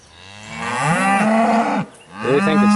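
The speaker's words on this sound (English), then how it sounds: "Here's the cows up here doing their job." Cows mooing close by in a hillside pasture, two long, loud lowing calls, the first drawn out and rising, the second starting after a short pause.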